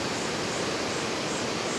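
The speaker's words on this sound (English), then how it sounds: "That is a beautiful waterfall down to the river." A waterfall in Wulai, Taiwan, pours down to the river, heard as a steady, dense broadband roar with no breaks or talking over it.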